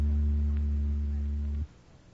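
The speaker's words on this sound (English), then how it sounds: "That was an electric oscillator you just heard," Electric oscillator tone sounding at about 80 cycles per second from a 1936 radio broadcast, a steady low buzzing hum that holds for over a second and a half and then cuts off abruptly, with no talk.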